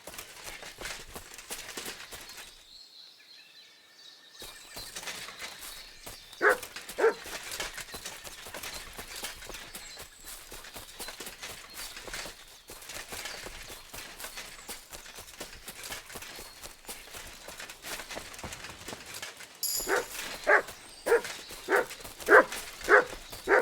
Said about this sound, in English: Good dog, Mutz. Show me